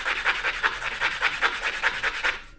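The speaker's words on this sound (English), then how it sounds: "I'm going to sand this end down, ready to put my loop on it" Sandpaper rubs back and forth against the end of a turkey quill in a steady, rhythmic rasp of about a dozen close strokes, continuous and fairly loud with no talking.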